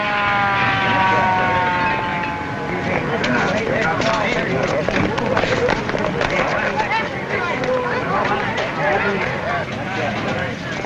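An ambulance siren wails with rising and falling tones, loud and close, beneath constant overlapping talk and movement in a 1939 crime-film scene.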